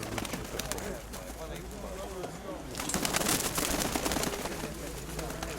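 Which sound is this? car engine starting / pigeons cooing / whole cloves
pigeons cooing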